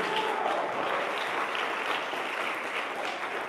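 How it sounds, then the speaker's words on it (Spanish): Steady, dense applause from a church congregation, a continuous wash of clapping at even loudness throughout with no voices on top. "Denme un aplauso fuerte al que vive y reina por los siglos de los siglos."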